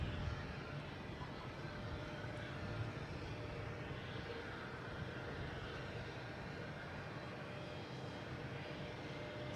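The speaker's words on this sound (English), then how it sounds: "next coming in is Delta from Fort Lauderdale, 1401 flight number," A Delta Boeing 737-900 airliner arriving at Boston Logan from Fort Lauderdale gives off a steady, fairly distant engine roar that holds evenly through the stretch, with no talking.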